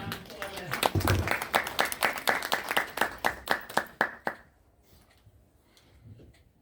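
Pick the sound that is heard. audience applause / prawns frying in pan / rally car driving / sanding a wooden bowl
audience applause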